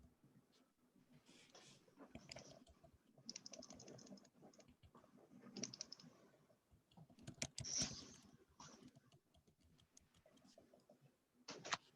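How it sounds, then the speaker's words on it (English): Typing on a computer keyboard during an online town board meeting, quiet irregular key clicks in short runs, close to the microphone, with faint background voices. "I'm typing it in right now."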